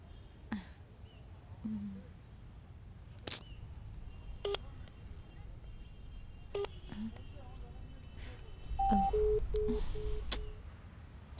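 A telephone being dialed in a Bhojpuri movie scene: a series of short, distinct keypad beeps at an uneven pace, quiet and close, over a low background hum.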